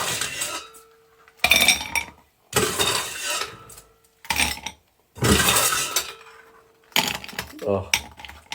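Ice being dropped into cocktail glasses, several loud, close clattering bursts of cubes clinking against glass, separated by brief pauses.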